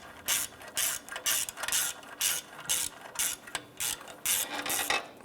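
A ratchet clicks in quick bursts, tightening the down pipe bolts onto the exhaust manifold of a 2005–2010 Chrysler 300. About a dozen short, close, rhythmic strokes come with brief pauses between them.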